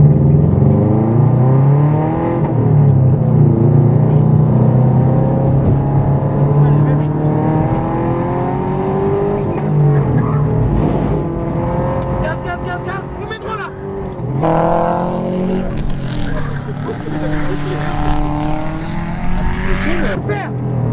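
A 300 hp Subaru rally car accelerating while drifting, its engine droning and rising in pitch through revs, loud and close inside the car as people talk throughout.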